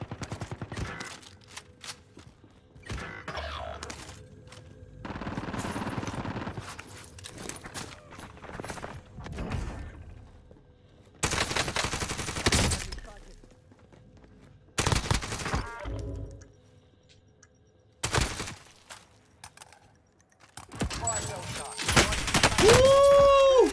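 Call of Duty: Warzone gunfire rattles out in several loud automatic bursts separated by quieter gaps, with footsteps and game sounds in between.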